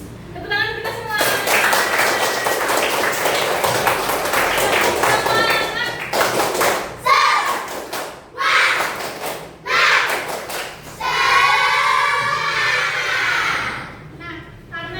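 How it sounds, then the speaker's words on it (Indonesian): Schoolchildren in a classroom clap their hands in bursts of rhythmic clapping, with a teacher's voice and children's voices talking in between the rounds. "Tepuk tangan kita semua."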